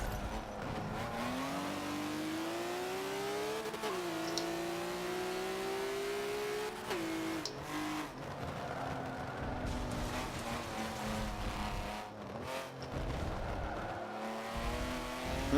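A race car engine in a racing video game revs and climbs through gears, a steady strained whine with shifts, then tires squeal and skid as the car slides around, loud and close throughout.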